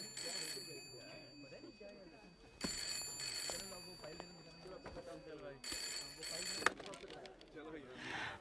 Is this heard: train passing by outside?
no